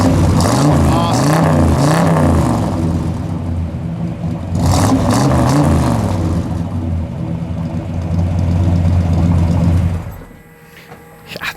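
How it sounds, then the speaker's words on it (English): A 1971 Buick GS 455 convertible with a Flowmaster dual exhaust and big pipe rumbles loudly from behind, revving up twice in strong swells before dropping abruptly to near quiet at the end. "Again, that Flowmaster dual exhaust with that big pipe, it just awesome."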